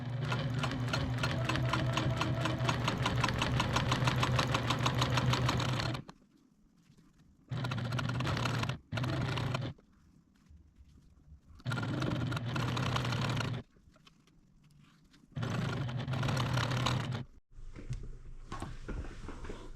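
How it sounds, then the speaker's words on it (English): A sewing machine with a regular presser foot stitches quilt fabric in several steady, rapid runs of humming needle strokes, separated by quiet pauses, close and clear with no talking. "I'm using my regular presser foot because my 1/4 inch would drag down the fabric here."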